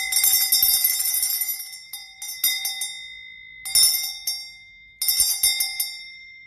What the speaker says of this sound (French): quand la cloche a fini de sonner